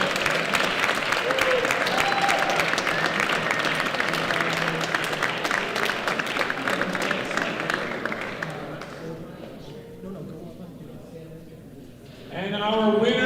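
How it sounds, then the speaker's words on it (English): Audience applause for a women's PSA squash finalist at a medal ceremony, dense and loud clapping for about nine seconds that fades out, followed by a voice starting to speak near the end. "Give her a round of applause."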